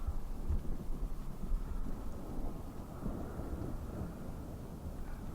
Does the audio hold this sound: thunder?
yes